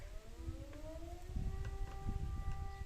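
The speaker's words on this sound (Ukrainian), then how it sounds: "Ну, сирена, у нас, як завжди." A civil defense siren wails in the distance outside a garden, its tone slowly rising and holding over a muffled low rumble, faint but continuous.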